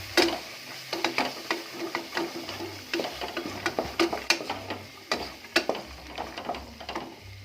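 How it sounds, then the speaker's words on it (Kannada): Green peas frying in oil in a pan for tomato bath, with a constant sizzle broken by frequent irregular pops and spatters, close and moderately loud, no voices. "ಬಟಾಣಿ ಕಾಳು ಚೆನ್ನಾಗಿ ಎಣ್ಣೆಲಿ ಫ್ರೈ ಆಗಿದೆ."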